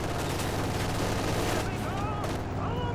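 Machine gun fire in Company of Heroes 2 rattles as steady, dense battlefield noise, a continuous mid-level barrage with booms mixed in and no clear pauses.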